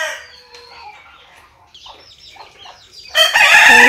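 Native deshi chickens and chicks on a rooftop cluck and peep in short bursts at close range, then a loud rooster crow breaks in near the end.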